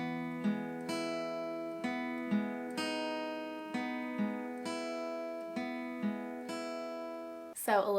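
Slow fingerpicked acoustic guitar playing the second half of a song's intro, evenly spaced plucked notes ringing over each other, soft and close, ending in a brief strum.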